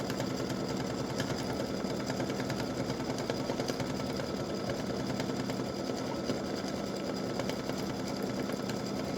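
Embroidery machine stitching out a butterfly in an edge-to-edge butterflies and hibiscus design, a fast, even mechanical whirring and needle chatter, continuous and close, with no voices.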